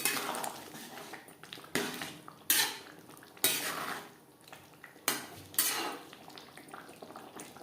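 A utensil stirs kohlrabi curry in a metal pan, giving repeated loud scraping and clanking strokes at irregular intervals, close and alone without talk.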